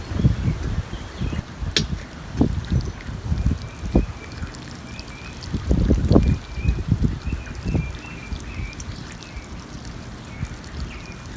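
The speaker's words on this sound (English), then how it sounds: "then we'll water it in" A newly planted pot of basil and squash being watered in at an outdoor youth day camp, with irregular splashing trickles and pours striking soil close by, some bursts louder than others, over light background ambience.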